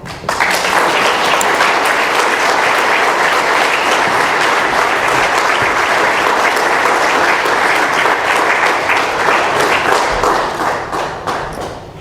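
A room of attendees at an Alcoholics Anonymous meeting applauds the speaker, loud, continuous clapping with some thumps that stays strong for about ten seconds, then gradually tapers off.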